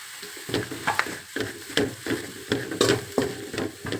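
Onions fry in a pan with coriander and other spice powders for fish sambar, a close sizzle broken by repeated scraping stirs in an irregular rhythm.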